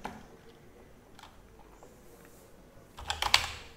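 Keys clatter on a computer keyboard as a password is typed into a Linux terminal, with a quick burst of close, loud clicks near the end following quieter near-silence.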